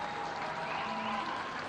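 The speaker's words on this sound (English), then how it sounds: "really nice to see the Hong Kong supporters standing up, applauding the Korean players" Supporters at a Hong Kong China versus Korea rugby match in the Asia Rugby Men's Championship applaud from the stands, a steady wash of clapping across the crowd at moderate distance, with faint voices mixed in.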